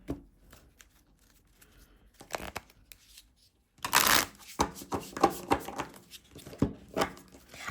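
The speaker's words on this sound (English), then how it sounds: "I'm not very good at the overhand shuffling" Overhand shuffling of a Dune Bene Gesserit tarot deck: quiet, sparse card slides at first, then a sharp burst of louder, rapid papery flicks and slaps in irregular clusters, close to the listener.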